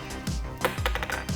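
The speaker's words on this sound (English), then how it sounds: "That is the sound of a grape." A grape frozen hard in liquid nitrogen drops and clinks like a glass marble, three sharp bright knocks with short bouncing rattles in between, close and fairly quiet.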